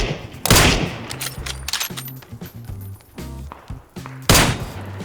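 Rapid bursts of video-game gunfire in PUBG, several loud close volleys and single cracks layered over a low rumbling engine hum, with quieter shots between the heavier salvos.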